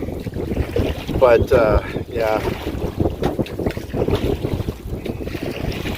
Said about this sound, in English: I'm fighting the wind a little bit here